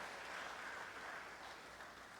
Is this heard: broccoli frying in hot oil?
no